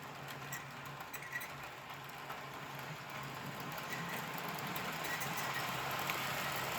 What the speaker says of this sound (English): One of the tender wheels is kind of squeaky, but other than that, it runs really well and quiet.